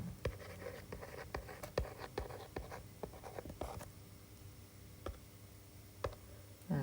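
Pen or marker scratching out a handwritten equation, a run of short ticks and strokes with brief pauses, close and fairly quiet, with no voice.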